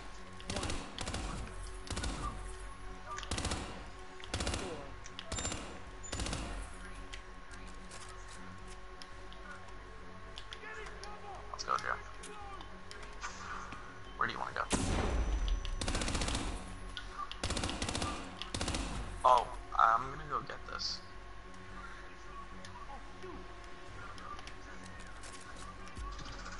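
Bursts of machine gun fire crackle in short, irregular volleys, with quieter stretches between and a few louder clusters midway, set against a faint background with occasional bird-like chirps.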